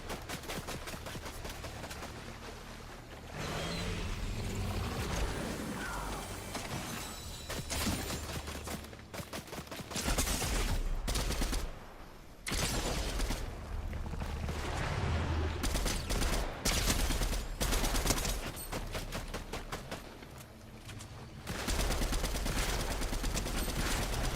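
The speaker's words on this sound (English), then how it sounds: "That damn shotgun I got." Repeated shotgun blasts in the Fortnite video game, loud and close, fired in uneven bursts over a continuous bed of game noise and movement with no talking.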